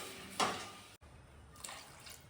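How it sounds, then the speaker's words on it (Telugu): A glass of water poured into a pot of onions for paneer curry: a short splashing pour, a brief gap, then a softer, quieter trickle of liquid. "ఒక గ్లాస్ వాటర్ వేసుకోవాలి."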